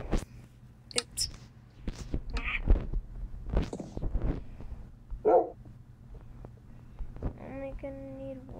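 A dog in the Minecraft video game barks in short, separate yips scattered among game clicks and item sounds, fairly close and moderately loud, with a low steady hum underneath.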